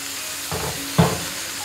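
A squid mixture for grilled squid is sautéed in a hot pan on a stove, giving two short bursts of sizzling about half a second apart over a steady background hiss. No one speaks.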